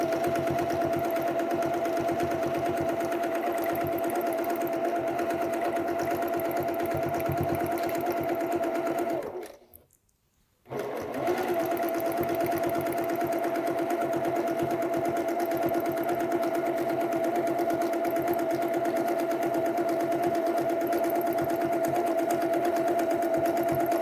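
A sewing machine stitching during free-motion quilting of a feather design, running in a fast, steady, close whirring hum that stops briefly midway and then resumes at the same pace.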